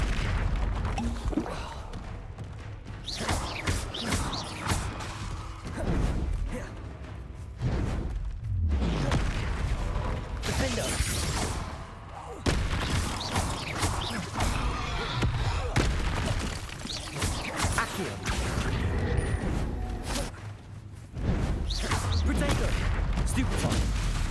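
Repeated Confringo blasting spell explosions in Hogwarts Legacy, loud booming impacts and bursts in quick succession amid ongoing combat noise, with voices heard throughout.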